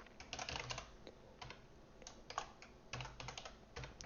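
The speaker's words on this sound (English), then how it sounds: "I have a nasty habit of typing faster or slower than I think sometimes" Rapid typing on a computer keyboard while coding, bursts of close clicky keystrokes with short pauses between runs, quiet and with no voices.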